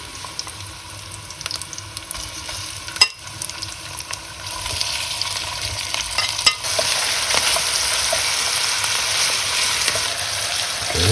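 Sausages and onions fry in a pan, a close steady sizzle that grows louder and fuller toward the end, with a couple of utensil knocks early on.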